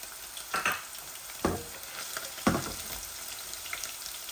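Onion hitting hot oil with garlic in a pan, giving a steady faint sizzle broken by three short louder bursts as pieces drop in, with no one talking.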